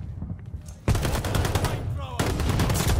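Rapid gunfire in a multiplayer shooter video game, loud bursts with a brief pause in the middle, sustained dense rattling throughout.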